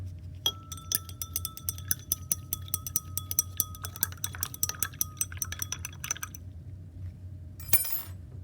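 A mixture of cobalt chloride and calcium hydroxide is stirred in glassware, producing a rapid, steady run of bright glass clinks as the rod taps the sides, close and clear, ending with a brief rattle.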